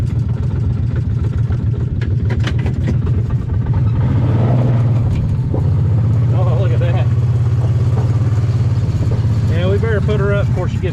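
A Kawasaki Mule utility vehicle engine with a blown head gasket idling roughly and loudly up close, with a steady low throb and uneven pulsing throughout, while people talk over it.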